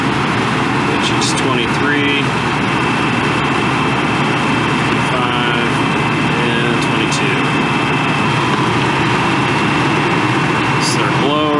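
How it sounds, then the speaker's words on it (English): An air conditioning compressor runs with a steady, droning hum and faint tonal whine, holding level throughout while a person talks over it nearby. "which we've got what, one compressor there running"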